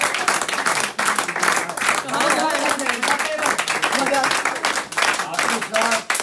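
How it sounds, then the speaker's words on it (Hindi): A seated audience at a business gathering for ZS Daily Needs claps to welcome a guest onstage, a steady dense patter of hands lasting several seconds, mixed with voices talking over it. "जोरदार तालियां आकिब सर।"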